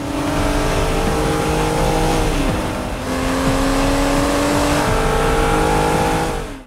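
Blue 2014 Aston Martin Rapide S driving hard, engine revving loud and close with rising and falling pitch as it accelerates and shifts, a sustained roar throughout with no voices.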